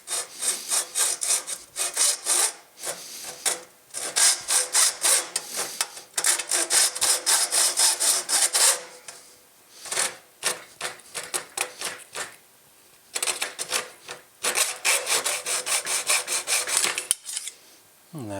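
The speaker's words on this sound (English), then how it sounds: "And now we can do regular cutting." A hacksaw cuts through a window screen frame piece in steady back-and-forth rasping strokes, loud and close, running in bursts with brief pauses between runs of strokes.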